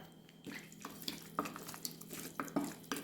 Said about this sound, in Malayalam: ഇത് നമുക്കൊന്ന് നന്നായിട്ട് മിക്സ് ചെയ്യാം.